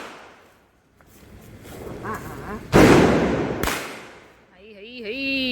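Diwali firecrackers burst outdoors as brothers set them off: one loud, sharp bang and a second crack stand out over crackling and hissing, with people talking and shouting around them.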